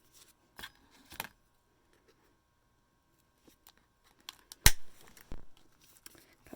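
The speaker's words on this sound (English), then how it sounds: "Cut through all those layers." Scissors snip through several folded paper layers while a small handmade mini-book is assembled, giving a few short, sharp, crisp cuts separated by quiet pauses, close to the microphone, with no talking.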